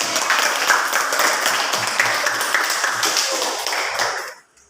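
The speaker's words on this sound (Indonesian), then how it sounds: "Kita beri tepuk tangan untuk." A class claps for a student group that has just presented, steady applause filling the room for about four seconds before stopping abruptly, with faint voices underneath.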